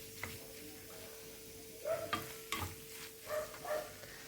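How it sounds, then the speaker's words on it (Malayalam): Vegetable biryani masala being stirred into rice, a few soft scraping and clinking strokes against the pot, quiet and close, with no talking. "ഇനി നമുക്ക് റൈസിലേക്ക് ഇത് നല്ലോണം മിക്സ് ചെയ്തെടുക്കാം"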